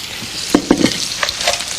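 Chicken pieces deep-fry in hot oil for a lemon sauce dish, with a continuous crackling sizzle and a few brief stirring clatters close by.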